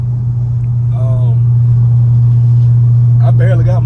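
Dodge 392 V8 fitted with new headers, a deep, steady engine drone running loud and unbroken under two short bursts of nearby talk.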